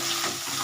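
Short burst of crushed garlic sizzling in a hot pan, loud and continuous, with faint stirring underneath.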